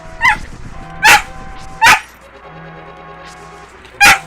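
Close, loud barking from a pet dog: three quick sharp barks near the start, a pause, then one more at the end, with nothing else competing.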